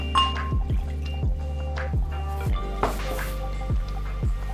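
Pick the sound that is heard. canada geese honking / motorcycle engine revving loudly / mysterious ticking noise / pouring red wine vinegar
pouring red wine vinegar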